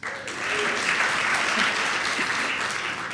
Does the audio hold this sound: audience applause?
yes